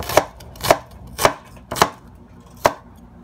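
A kitchen knife chops through onions for a lyonnaise cut, giving five crisp, evenly spaced strikes on the cutting board, close and clear with no talking.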